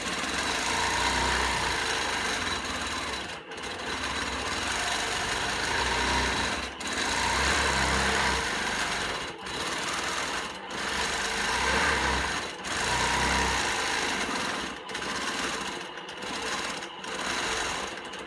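A sewing machine free-motion quilting swirly feathers, its motor whirring loudly and steadily in long bursts separated by brief pauses, close and alone without talk.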